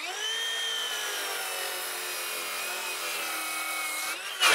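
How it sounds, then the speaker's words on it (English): A cordless rear-handle circular saw with a 10-inch blade cuts through wood in one long, steady, loud whine that holds for about four seconds, then briefly rises in pitch as it clears the cut. "let's go ahead and use these other two saws"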